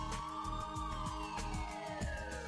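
Loud wailing sirens from the video game Spider-Man 2: Enter Electro, with sweeping pitch glides over a dense, steady game soundtrack throughout.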